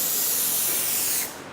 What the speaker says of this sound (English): Okay, so first we spray the cleaner.